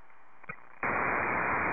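Harsh broadband static suddenly floods an amateur radio band after a quiet stretch and a brief click, then holds steady and loud as a continuous hiss to the end.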